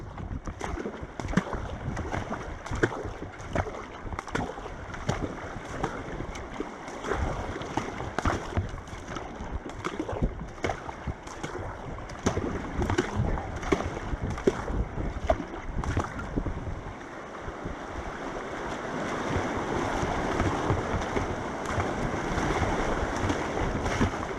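Rushing water and wind surround the listener, with repeated splashing strokes of a kayak paddle cutting through the steady roar of river rapids on the Umgeni River at a low, barely paddleable water level.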